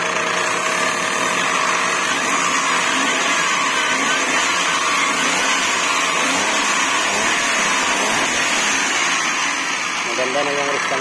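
A repaired motorcycle engine, its high-tension wire just replaced, runs close and loud with a buzzing, raspy drone that rises and falls in pitch under steady talk.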